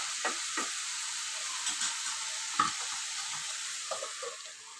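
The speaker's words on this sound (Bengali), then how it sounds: "লবণ দিয়ে নেড়ে চেড়ে ঢাকনা দিয়ে ঢেকে দেব।" Salted food being stirred in a cooking pan, with a soft steady sizzle and a few scattered scrapes and taps of a utensil, the sound fading slightly at the end.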